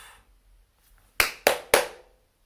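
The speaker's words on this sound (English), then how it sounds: "If you're confused about the clapping" Three sharp hand claps, evenly spaced and close, made to sync a recording; faint room tone before them, nothing else.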